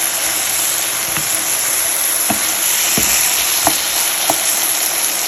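Goat liver fries loudly on a tawa as a spoonful of yogurt goes in, a constant close sizzle broken by a few sharp spatula knocks against the metal.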